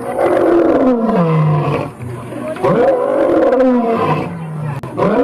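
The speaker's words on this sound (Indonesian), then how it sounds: "Wow, ada hewan singa." A lion roars loudly several times in long, descending groans, close and powerful, with no speech.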